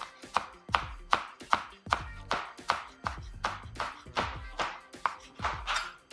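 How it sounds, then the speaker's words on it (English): A knife chops through a bundle of herbs on a cutting board for a Nikkei tuna ceviche, about a dozen crisp, evenly spaced thunks ringing out clearly and close, with no talking. "Grab a knife and start chopping away."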